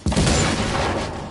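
Grenade explosion in The Order 1886, a loud, close, broadband blast with a sustained rumbling roar and no talk.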